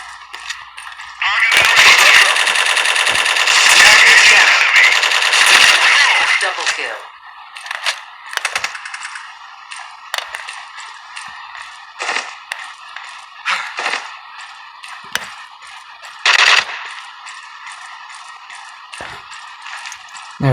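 Automatic rifle fire with heavy recoil in the shooter game Strike Team Online: a loud sustained burst of rapid shots early on, then sparse single shots and clicks under someone talking.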